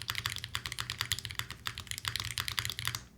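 Fast typing on a Demium 65 keyboard fitted with silicone plugs, a dense run of soft, muted key clacks heard close and clear with no talking.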